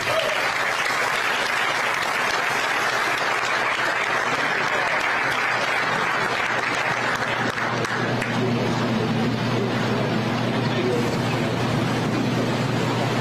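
Sustained applause for speakers at a public event in Chatham County, a large crowd clapping steadily and loudly throughout, with faint voices mixed in.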